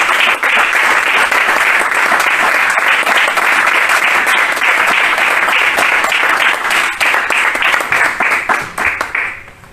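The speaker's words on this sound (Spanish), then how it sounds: "Un aplauso para todos los científicos e investigadores y los que están ayudando a proteger el liderazgo." A crowd applauds scientists and researchers at an event on research in Spain, with loud, dense clapping held steady for several seconds before it thins out and stops.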